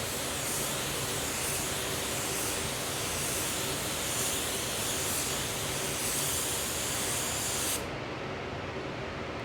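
Steady, loud airy hiss of a spray gun laying a Horizon mid coat paint over a green base coat, continuous for several seconds before cutting off abruptly near the end.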